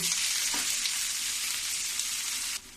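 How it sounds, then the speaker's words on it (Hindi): Finely chopped onions fry in oil in a kadai, giving a steady, close, bright sizzle and crackle with a faint stir partway through, continuous until it softens near the end. "अब इसको मैं थोड़ी सी भून लूंगी।"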